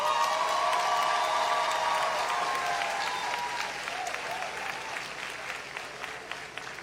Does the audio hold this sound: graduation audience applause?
yes